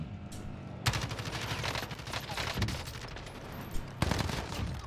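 Video game gunfire in a solo match, with dense bursts of automatic shots and sharp cracks packed together, loud and continuous through the whole stretch with no voices.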